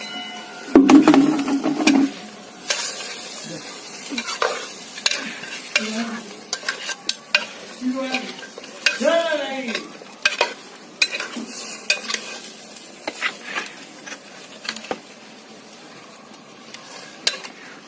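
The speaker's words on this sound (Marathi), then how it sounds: "हे बघा भाजी टाकली आता ही भाजी आम्ही याच्यावरच हो शिजवणार आहे" Vegetables sizzle and get stirred in a clay pot over a wood-fired village stove, with a steady hiss of frying broken by repeated scraping and clanking of a spoon against the pot, close and fairly loud.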